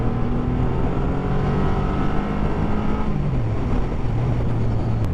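A motorcycle engine runs loud and close, a steady dense roar that drops in pitch partway through as the revs ease off, with no talking.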